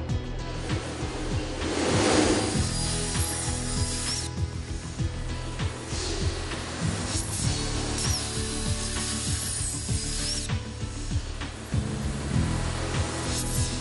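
Hypertherm HPR 260 plasma and oxyfuel cutting machines work mild steel plate side by side, a loud continuous industrial roar with mechanical hum and tonal whine, dense and steady throughout with no voices.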